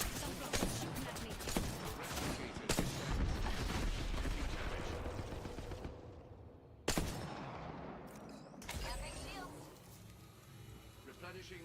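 Enemy gunfire in the Apex Legends video game, bursts of rapid shots and heavy impacts crackling over dense game noise, with a player talking throughout.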